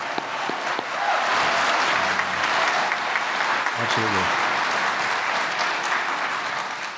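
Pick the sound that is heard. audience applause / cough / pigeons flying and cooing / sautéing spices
audience applause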